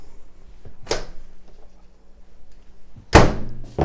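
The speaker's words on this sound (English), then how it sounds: "that's typical for me, slamming doors" A kitchen door slams twice, one sharp thud and then a louder, heavier slam a few seconds later, each close and standing out from a quiet room.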